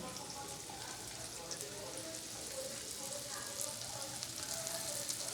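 Carrots and chopped garlic fry side by side in a pan, making a faint, continuous sizzle with light crackling throughout, kept at a low level.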